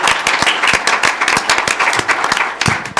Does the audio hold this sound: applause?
yes